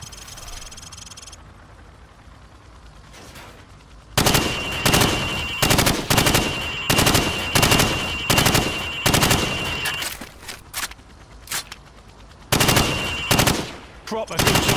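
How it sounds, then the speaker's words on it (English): Call of Duty 4: Modern Warfare rifle fire aimed at training targets through wood: after a quieter opening, loud bursts of repeated shots come in clusters with short gaps between them, close and sharp. "I want you to shoot the targets through the wood."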